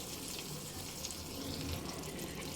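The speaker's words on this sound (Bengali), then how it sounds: "এবার এই পর্যায়ে দিয়ে দেব এক কাপ গরম জল" Hot water poured from a cup into a pan of chicken rara masala: a steady, close splashing rush of liquid that holds for the whole stretch.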